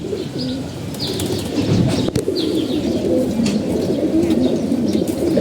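Pet pigeons of various colours coo repeatedly at close range, soft throaty calls overlapping with occasional chirps and a wing flap against a busy loft background.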